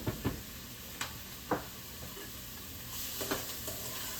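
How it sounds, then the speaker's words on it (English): Onions and peppers saute in a pan, a soft, steady sizzle broken by a few sharp taps and scrapes of a utensil stirring, fairly quiet and with no voices. "I'm going to saute these until they get translucent."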